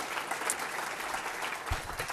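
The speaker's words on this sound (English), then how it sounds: "Give her one more round of applause." Audience applause fills a hall at an annual celebration dinner for a charity chapter, a steady dense clatter of many hands clapping throughout, fairly loud and continuous with no voices over it.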